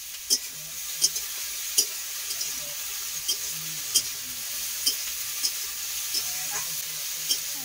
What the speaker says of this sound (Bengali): একটু আলু ভাজা করছি